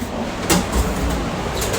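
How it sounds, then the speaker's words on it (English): A heavy door on a historic U.S. Sugar Express train car is pushed open, giving a couple of dull knocks and a sliding rumble over steady background rumble. "This door's very heavy."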